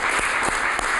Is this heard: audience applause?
yes